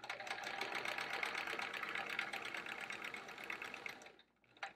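A sewing machine quilting a thick, bulky quilt hums in a steady, fast-running whir that cuts off abruptly near the end, with no talking.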